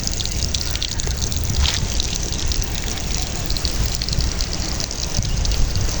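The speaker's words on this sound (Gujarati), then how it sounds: "જુઓ પાણી ચાલુ કરી દીધું, મસ્ત પાણી ચાલુ છે" Steady rushing water pouring from a pipe and splashing without pause, fairly loud and close, with a faint murmur of voices in the background.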